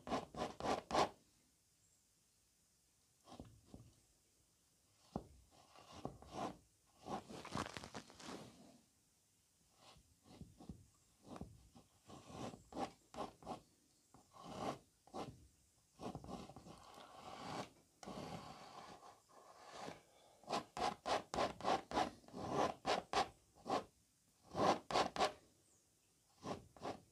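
Paint is scraped off a canvas while a misty cloud area of a moon ridge landscape is being painted, heard as quiet, close scratchy strokes that come in irregular bursts and quicken into rapid runs near the end.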